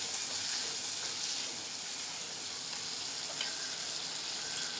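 Onion and tomato sauté with curry leaves and salt in a pan for a lima bean rice dish. The soft frying hiss stays steady and fairly quiet across the clip, with no talking.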